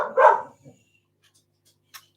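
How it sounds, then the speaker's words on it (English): A dog barking indoors, one loud close bark with a short trailing yip, then near silence apart from a faint tick. "That's my doggy's going nuts."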